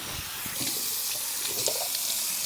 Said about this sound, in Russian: Теперь я это дело все смываю.